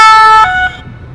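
A police-style siren fitted to a car blares loud and close on a street, holding a high wailing tone for about half a second before it drops and cuts off.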